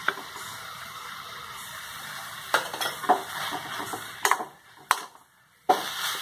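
Green beans poriyal with coconut being stirred and sautéed in a pan, a soft sizzle under intermittent scraping and clinks of a spoon against the pan, with a few sharper knocks and a brief quiet gap.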